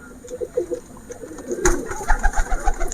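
Several young pigeons give soft, throaty coos nearby, a few quick calls followed by louder rustling and more cooing, with no voices.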